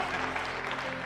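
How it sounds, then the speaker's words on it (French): An audience applauds a singer as he is introduced on stage, a brief, dense burst of clapping filling the whole moment. "Veuillez applaudir Bart."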